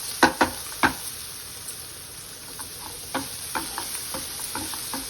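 Soaked chana dal dropped into a hot pan for an aritipuvvu curry, a few sharp clattering hits followed by soft steady sizzling and occasional light scraping stirs, fairly quiet and without talk.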